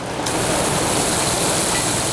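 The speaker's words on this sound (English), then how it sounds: "The noise is constant at J&K Dairy, from fans to water soakers." Water soakers spray steadily over cows at a dairy farm in summer heat, a loud continuous hiss and rush of water close by, with no voices.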